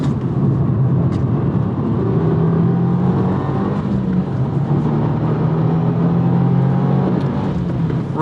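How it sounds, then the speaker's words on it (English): Engine of a 2024 Subaru WRX TR running hard on a race track, heard from inside the car. A steady, moderately loud drone holds near its rev limit with slight pitch shifts and no talking. "I keep hitting red line because this engine is so quiet and you expect it to keep revving higher"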